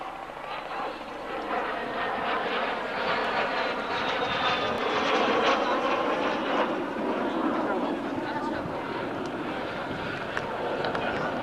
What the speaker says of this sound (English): It's certainly a lightweight aircraft